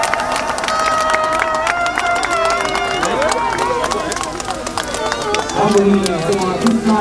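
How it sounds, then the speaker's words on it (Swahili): At the Voi–Taveta railway branch line launch, a large crowd cheers and applauds with high trilling ululation rising over continuous voices and babble, loud and close throughout. "Tupigie makofi shangwe na vigelegele."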